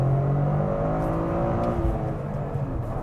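2023 Toyota GR Corolla with a 1.6-liter three-cylinder engine under full throttle through a downshift: a loud, continuous engine drone heard from inside the car, its pitch shifting as the gear changes.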